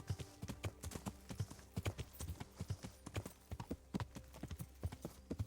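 Horse hooves clop rhythmically in a quick gallop in the medieval video game Kingdom Come Deliverance, steady and close throughout, with no talk over them.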